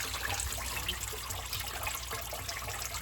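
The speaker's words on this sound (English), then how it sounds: "Yeah, she's draining." Coolant drains from a Detroit 60 series diesel engine during a water pump replacement, a steady, close splattering and trickling stream of liquid pouring down without pause and with no talk.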